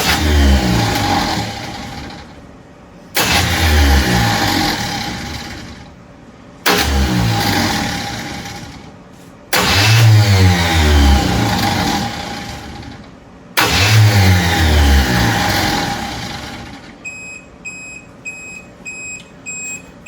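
Starter motor repeatedly cranking the engine of an old classic car left forgotten in the Maine woods, five loud bursts of several seconds each separated by short pauses, never catching, followed by faint beeping.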